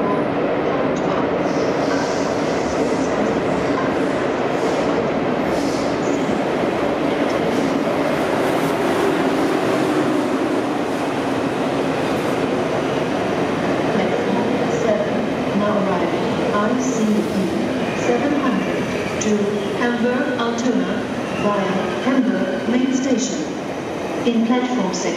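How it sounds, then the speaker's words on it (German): An ICE high-speed train pulls into a platform at Berlin Hauptbahnhof, a steady rolling rumble with faint wheel squeal, layered under station announcements and a reverberant concourse murmur throughout. "Caution, the train is arriving."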